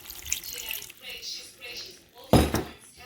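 A cornstarch slurry is poured into a slow cooker of sweet and sour meatballs, a soft liquid splash and trickle rising sharply near the end, with faint background noise before it.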